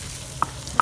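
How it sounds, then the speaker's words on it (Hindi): Spices fry in a pan while being stirred, a soft sizzling hiss broken by two quick metallic taps of a utensil, close and brief. "अब हमने इसको अच्छी तरह से हिला देना है और मसालों को भूनना देना है थोड़ा देर के लिए"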